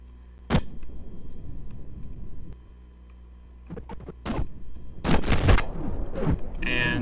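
Two hundred ships in a Babylon 5 fan-made space game all fire their weapons at once, heard as irregular bursts of sharp, loud blasts and volleys separated by quieter gaps, growing denser toward the end.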